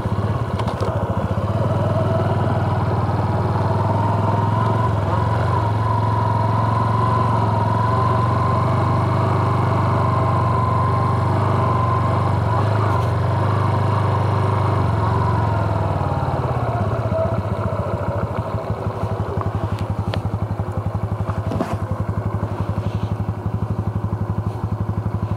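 A 2019 Honda Super Cub C125 motorcycle runs steadily at a campground, its small engine humming loudly and close with a constant low drone as it rides along, then fading slightly toward the end.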